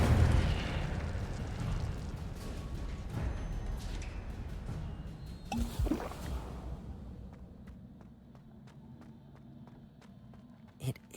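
An Incendio fire spell is cast in Hogwarts Legacy, bursts of flaring whooshes and pops over a rumbling backdrop, fading to quieter clicks and sparse taps toward the end.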